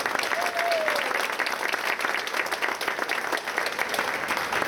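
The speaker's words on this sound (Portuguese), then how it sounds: "E também merece uma salva de palmas." A crowd in the São Paulo city council chamber gives a round of applause at a women's event, continuous and even, with a faint voice briefly audible early on.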